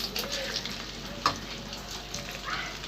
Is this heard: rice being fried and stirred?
yes